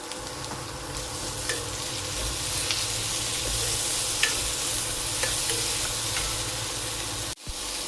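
Chopped tomato and curry leaves sauté in a hot pan with tamarind, giving a steady close sizzle broken by occasional scraping stirs and a sharp clack near the end, with no talking.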